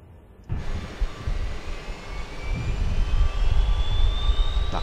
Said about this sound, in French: on peut voir et entendre effectivement à l'extérieur que notre APU se met en marche